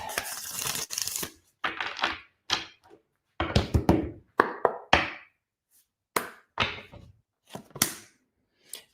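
Tarot cards being shuffled in a series of crisp, separate bursts of riffling and slapping, each lasting a second or less with short silences between them, loud and close.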